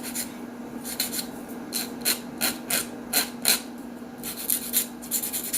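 Fingernails being filed and shaped into an almond form, a series of short scratchy rasping strokes in uneven bursts over a faint steady hum, close and without talk.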